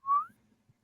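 A man imitates a guard's signal whistle with his own voice, giving a single short rising whistle, loud and close, followed by faint breathy noise.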